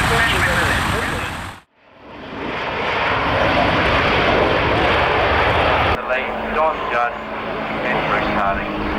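A propeller airplane drones loudly at the Matamata Airfield air show, its engine roar swelling and holding steady close by, with a person talking over the noise.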